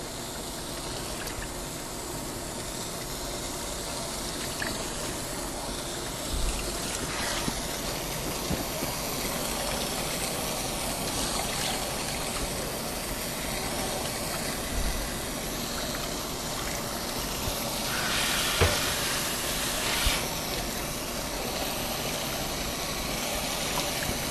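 Water hose running steadily while rinsing shampoo out, a continuous close splashing flow with faint bumps and no voices.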